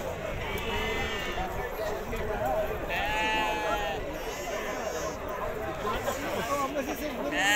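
Sheep at a livestock market in Azrou, with repeated wavering bleats from several animals rising over a constant crowd murmur and nearby chatter.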